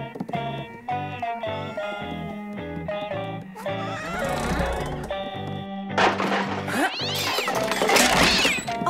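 A cartoon cat in an animated holiday show meows several times over a steady musical backing, the calls growing louder and more strained toward the end.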